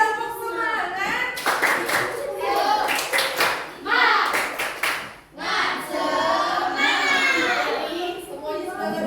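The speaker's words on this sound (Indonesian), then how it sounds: "Oke, tepuk semangat." Young schoolchildren in a classroom clap together in a quick rhythmic pattern, a close, bright burst of hand claps mixed with children's voices chanting and calling out throughout.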